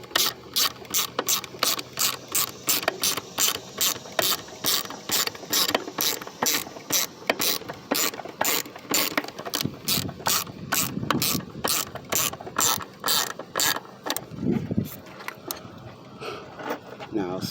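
Ratchet clicking in rapid bursts while torquing down ignition coil bolts on a 2007 PT Cruiser, loud and close, with steady repeated pawl clicks across the whole stretch.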